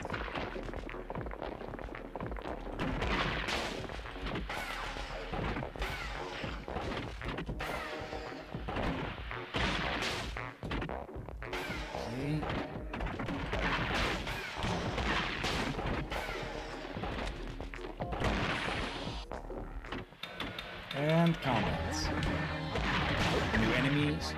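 Rockets firing and exploding in the Gato Roboto video game, a dense run of sharp blasts and crashes in quick succession, loud and close, with laughing talk over the top.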